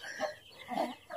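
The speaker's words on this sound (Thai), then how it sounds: "เรียกไก่เป็ดก็มานะคะ" Farm chickens cluck after being called by their keeper. Two short, soft clucks come close together, fairly faint, with no talking.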